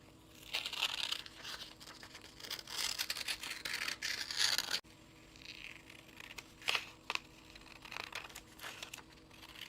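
Paper hundred chart being cut out with scissors, close crinkling and rustling of the sheet with repeated short snipping crunches, fairly quiet with no talking.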